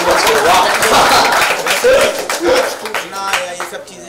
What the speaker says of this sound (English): A big round of applause for sir, super hit.